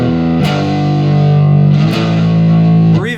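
Heavily distorted electric guitar playing sustained chords, with brief pick scrapes between them, loud and close.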